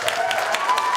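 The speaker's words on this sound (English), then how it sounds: "So please give them a big round of applause." Audience applause for children competing in a spelling bee at a youth festival, a steady wash of clapping throughout the short moment, moderately loud and close, with some faint voices mixed in.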